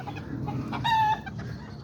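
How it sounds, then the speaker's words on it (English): Small backyard chickens and a little rooster in a cage give soft clucks, then a brief high crow rises over low background rumble. "That little rooster right there, and then I got that little chicken"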